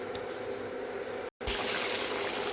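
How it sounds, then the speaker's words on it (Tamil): Sugar syrup pours in a steady liquid stream into roasted oats rava in a pan, a close, continuous trickle broken by one brief dropout before the flow resumes. "நான் ஏற்கனவே பாகு எடுத்து வச்சுருக்கேன், அதை அப்படி ஊற்றிடலாம்."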